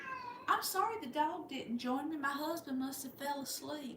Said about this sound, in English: y'all hear the kitty cat?